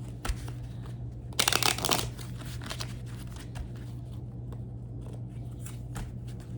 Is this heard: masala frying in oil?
no